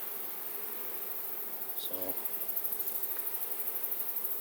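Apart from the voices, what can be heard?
honey bees buzzing at a beehive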